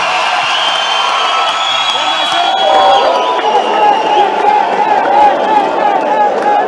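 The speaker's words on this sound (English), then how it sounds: "Please, a round of applause for Dr." A lecture audience in Africa cheers, whoops and applauds for Dr. Mbiseni Nkosi after a public lecture, a steady dense crowd roar with shouts rising over continuous clapping throughout.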